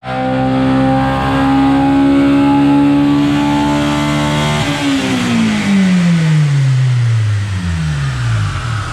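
A loud Mustang engine revs hard on a dyno and holds high, then drops and winds down in falling tones, close and alone.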